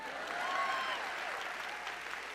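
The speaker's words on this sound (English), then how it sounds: "You should clap for that" An audience at a corporate keynote claps in a soft, steady patter that sounds somewhat distant and stays even throughout.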